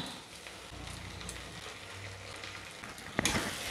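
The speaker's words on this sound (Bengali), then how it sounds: "পেঁয়াজ আমার প্রায় ভাজা হয়ে গেছে। এবার আমি দিয়ে দেব আদা রসুনের পেস্ট" Onions frying in a pan with ginger-garlic paste for a homemade chicken curry, a steady close sizzle with soft stirring scrapes and a sharper burst of hissing near the end.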